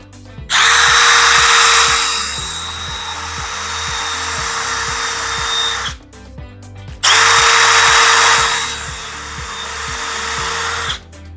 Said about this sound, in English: now we're gonna unfold it and we're gonna drill right through the center